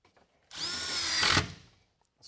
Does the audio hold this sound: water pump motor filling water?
no